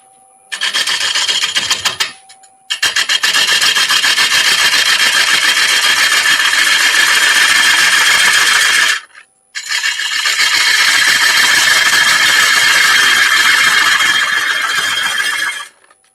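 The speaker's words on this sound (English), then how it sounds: "The other good thing about turning wet wood is that when you're getting the shavings all coming out and hitting your hand, they're not hot." A lathe turns a lump of wet walnut wood, giving a loud, steady broadband rasping hiss of the cutting tool that runs almost continuously, broken by two short pauses, with no talking.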